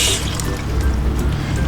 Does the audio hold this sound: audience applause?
no